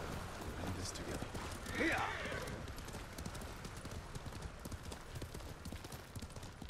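Hooves clip-clop at a steady gallop from a horse in the video game Ghost of Tsushima, with a brief whinny near the middle, all under game background sound.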